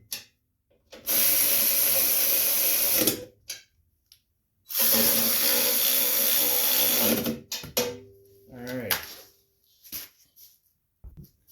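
A power tool tightening bolts on the deck of an Encore Extreme zero-turn riding lawn mower, two long loud buzzing bursts of several seconds each, followed by shorter clanks and mechanical rattles, close up with no talk.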